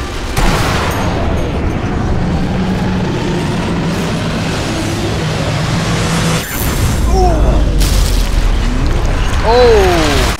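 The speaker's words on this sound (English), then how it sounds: "I must have hit some grenade or something." A grenade explosion in the Sniper Elite V2 video game lands as a loud, sustained boom among dense game noise and rumbling, followed by whooshing swept tones near the end.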